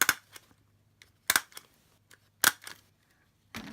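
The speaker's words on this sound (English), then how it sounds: "I've got my staple gun with blue staples." A staple gun driving blue staples into card tags for scrapbooking, giving four sharp, close snaps spaced about a second apart in an otherwise quiet room.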